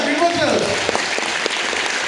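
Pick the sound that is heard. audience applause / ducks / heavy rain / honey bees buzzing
audience applause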